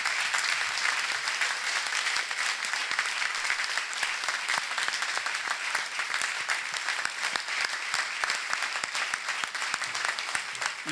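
A church congregation at a thanksgiving worship service breaks into dense, sustained applause, many hands clapping at once, loud and even throughout with no letup.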